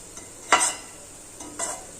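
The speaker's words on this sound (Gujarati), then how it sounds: "ગેસની ફ્લેમ બંધ કરી દીધા પછી પણ આપણે આ રીતના તેને 1 મિનિટ માટે ચમચાથી શેકતા રહેશું, હલાવ્યા કરશું" Metal spoon stirring and scraping a pan of dar, a traditional sweet roasted with dry fruits and grated coconut after the gas flame is off: two short, close scraping strokes with soft sizzling between them.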